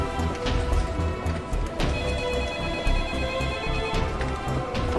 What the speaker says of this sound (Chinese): 小马接电话。